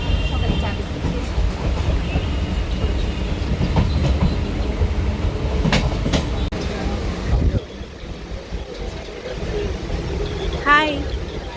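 A passenger train heads to Shantipur with a continuous rumbling ride and clattering wheels. The noise dips partway through and a brief squeal comes near the end, while people talk in the carriage.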